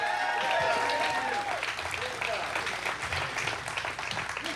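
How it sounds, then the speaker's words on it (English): Crowd applause at a U.S. Senate campaign rally in Statesboro, Georgia: sustained loud clapping and cheering from a large audience, with voices mixed in throughout. "Give him a great big round of applause."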